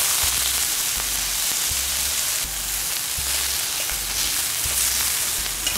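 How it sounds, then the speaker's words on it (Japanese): Salted dried squid tentacles sizzling on an iron griddle over a shichirin charcoal grill, a steady close crackle with repeated low thumps in a regular rhythm, no voices. "こうやって鉄板で焼くとね、めっちゃうまそうでしょ、このイカも"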